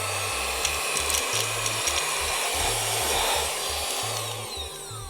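A new small vacuum for electronics cleaning, fitted with a HEPA filter, runs with a steady loud whine while sucking up full-size Cheerios, with small rattling ticks as pieces are pulled in and the motor drops off near the end.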